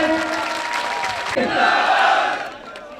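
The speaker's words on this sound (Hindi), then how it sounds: "जोरदार तालियों से आप स्वागत करें।" Loud crowd cheering and shouting at a political rally of the Rashtriya Loktantrik Party, a dense close roar of voices that swells midway and then fades.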